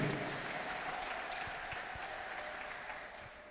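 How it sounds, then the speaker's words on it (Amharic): A church congregation applauds together in a steady, dense wash of clapping that fills the room and fades slightly toward the end. "የምን ዝምታ ነው በደንብ አጨብጭቡ"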